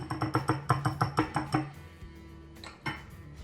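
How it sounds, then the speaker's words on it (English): A whisk beats all-purpose flour and baking powder together in a bowl for a vanilla sponge cake, making a quick run of about a dozen evenly spaced metallic clicks that stops abruptly, followed by quiet. "Give it a whisk to mix this up"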